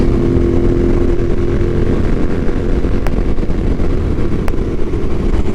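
A Royal Enfield Interceptor or Continental GT cruises steadily along a hilly winding road, its engine drone loud and constant close to the mic, mixed with wind rush and two brief faint ticks.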